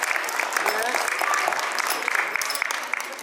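Audience at a school annual day celebration applauding a teacher's award, sustained crisp clapping from a sizeable crowd, with a voice talking faintly underneath.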